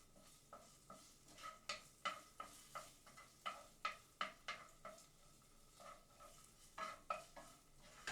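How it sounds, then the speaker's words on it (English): Tomato paste browning with garlic in a pan, heard as a quiet sizzle under a run of rhythmic spoon strokes scraping and tapping the pan, soft and close with no talking. "you're gonna brown the tomato paste with your garlic"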